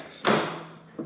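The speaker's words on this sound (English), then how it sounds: "But both sides of this, when you open the door" A Toyota MR2 door swings open with a sudden loud mechanical clunk and rattle that fades out, followed by a smaller thump a moment later, close by.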